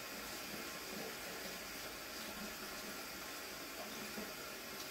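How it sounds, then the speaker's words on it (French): Water spraying and spattering steadily all over in a home setting, a continuous close hiss with no pauses and no talking. "Je vais arroser partout."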